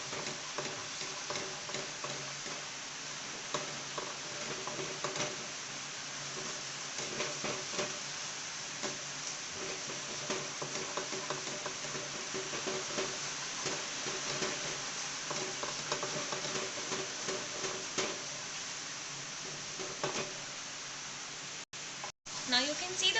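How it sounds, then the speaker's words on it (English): Masala paste for paneer butter masala frying in oil on a medium flame while being stirred: a steady, close sizzle runs throughout, with soft scraping and ticking from the stirring. "Keep stirring it for some more minutes."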